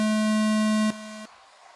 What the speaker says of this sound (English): going at the sound of the tone